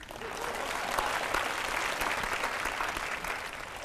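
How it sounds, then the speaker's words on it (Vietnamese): An audience breaks into dense, sustained applause, loud and close, rising slightly then holding steady for a few seconds without a break. "xin cho một tràng pháo tay cổ động"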